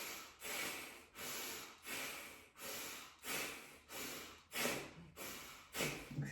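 Vigorous chest Bhastrika yogic breathing, a steady rhythm of about nine forceful, hissing breaths that each swell and cut off sharply, close and fairly quiet, with no talking.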